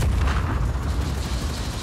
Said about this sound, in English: Yes, I did get hit by the radius of the explosion.